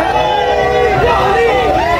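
Dense crowd roar at the RCB victory festival in Bengaluru, loud and continuous, with overlapping voices and shouting blending into a thick wall of noise.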